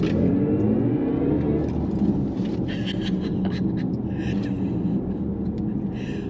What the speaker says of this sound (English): When you do put it into sport boost mode, you do get a snazzy little engine note in it though.